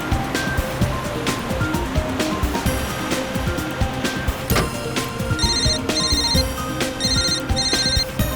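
A phone ringtone rings in a repeating electronic pattern of bright tones, entering midway and pulsing several times over a dense, noisy background like surf or rushing water.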